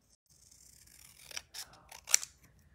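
Scissors snipping freehand through craft material for a fall project, a few quiet, close crisp snips and cuts spaced irregularly over soft rustling, with no talking.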